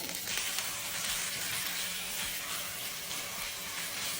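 Chicken pieces frying in a hot pan for a Singaporean rice dish, a loud, continuous crackling sizzle with steady hissing and no pauses.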